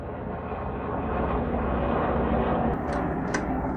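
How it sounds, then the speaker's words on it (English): A low-flying airplane drones loudly and continuously, its engine roar swelling slightly as it passes, with no talking. "What kind of airplane is that? It's pretty low."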